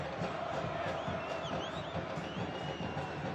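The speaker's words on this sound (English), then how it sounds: "The crowd's still doing their thing." Dense, roaring crowd of LAFC supporters at a soccer match against LA Galaxy, a steady wall of cheering and chanting with whistles rising above it, loud and continuous throughout.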